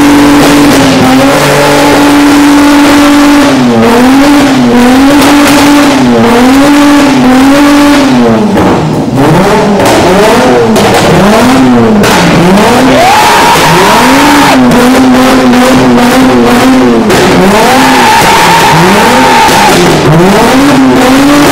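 A Holden Commodore engine, jump-started before the run, revs hard and loud close by, with repeated rising and falling flat-out revs, long sustained high-rpm stretches and brief dips, all steady and continuous throughout.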